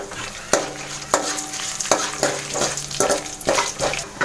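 Chillies fry in a pan of oil for puliyodharai, a bright, steady sizzle broken by a rhythm of clinking knocks as a spoon stirs and scrapes the pan.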